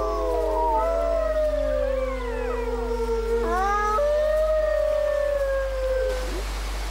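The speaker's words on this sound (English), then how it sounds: "the loud howling of the wolves is a clear warning to leave their territory" Wolves in the wild High Tatras mountains howling together, several long overlapping wavering howls rising and falling, loud and clear over a steady low rumble, with no talking.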